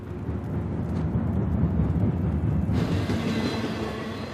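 A train rumbles steadily along the track in Uncharted: The Lost Legacy, with a deep continuous roar and a hiss that brightens partway through.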